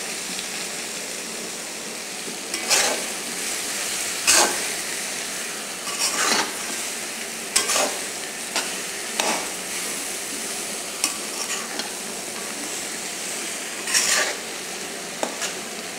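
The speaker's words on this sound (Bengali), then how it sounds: "আমার লো হিটে ভাজবো, ধীরে ধীরে ভাজবো যাতে সিদ্ধটা ভালো হয়" Okra and potato fry slowly over low heat in a pan, a steady soft sizzle broken by repeated scraping stirs at irregular intervals, close and alone without voices.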